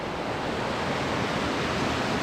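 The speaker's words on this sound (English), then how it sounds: "What an atmosphere with the water flowing." River water rushes steadily through a wild Scottish glen near a small bridge with cracking cement, a dense, even broadband roar filling the whole moment without pause or voices.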